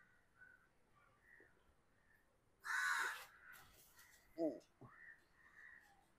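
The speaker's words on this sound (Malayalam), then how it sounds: "അവിടെ നിന്ന് പോകാക്കെ കാക്ക പോകുന്നില്ല" A crow caws loudly once, then gives a shorter harsh call, over a quiet background with faint voices.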